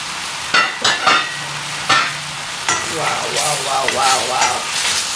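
Glazed carrots sizzle in a hot pan as a lid comes off, with a few sharp clanks and scrapes of stirring followed by a steady, bright frying hiss, close and loud, with no voices.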